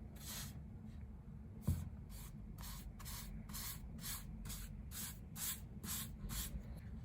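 A spray can paints a chip and salsa bowl red in repeated short hissing bursts, about a dozen evenly spaced sprays over a low steady background.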